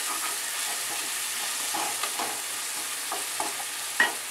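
Chopped tomato fries in a pan with roasted garlic, ginger and coconut, giving a steady close sizzle with a few soft stirring scrapes and one sharper clink near the end.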